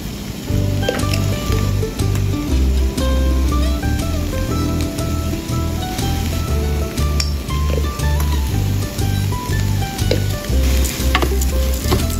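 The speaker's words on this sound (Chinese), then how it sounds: "倒入生米一起炒" Raw rice stir-fried in a pan with salt and turmeric makes a continuous dry sizzle with scraping and clinking from the spatula, under steady rhythmic background music.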